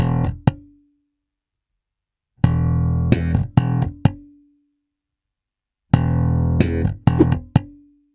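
Slap bass lick: an open E slapped, then a left-hand slap and a muted slap, played twice as two loud, percussive bursts with a pause between and no voice.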